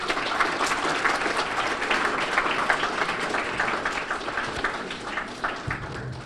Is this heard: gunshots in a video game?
no